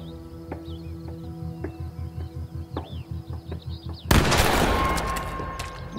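Gunfire in The Quarry on PlayStation: a burst of loud, dense shots erupts suddenly and sustains for about two seconds, following a stretch of rhythmic background game sound with no talking.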